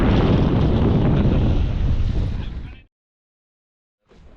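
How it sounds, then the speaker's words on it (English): Strong wind at a kite spot lagoon roars loudly into the microphone for nearly three seconds, cuts to silence, then returns briefly at the end. "still windy"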